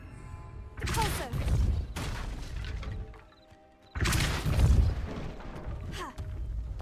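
Depulso spell cast in the Hogwarts Legacy video game, two loud forceful blasts with crashing debris and impact thuds, separated by a brief lull.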